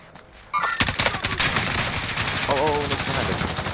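Rapid automatic gunfire in Call of Duty's Haunting of Verdansk zombie mode, starting abruptly after a quiet moment and rattling on as dense, loud bursts with a voice now and then.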